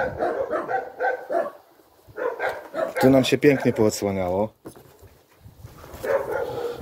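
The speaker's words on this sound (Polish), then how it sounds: "Psy jak zwykle wariują." Dogs bark and yip in a flurry of sharp, fairly close barks during outdoor work transplanting small-leaved linden nursery stock, with someone talking before and after.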